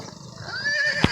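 A horse neighs at a Gujarati family's stable, where visitors from Tamil Nadu have come to buy horses; a drawn-out whinny rises and falls over about a second, close and clear, ending in a short snort.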